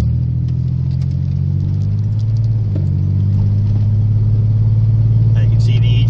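Car pulling away in gear, then heading uphill: a steady, loud low engine drone with a slight rise in pitch, close and continuous throughout.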